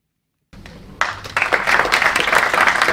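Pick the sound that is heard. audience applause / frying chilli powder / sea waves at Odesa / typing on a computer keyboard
audience applause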